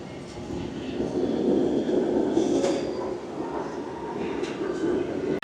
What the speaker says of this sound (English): There's the subway train.